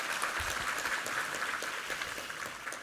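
A church congregation at an evangelism service bursts into sustained applause, many hands clapping together at a steady, fairly loud level for the whole moment.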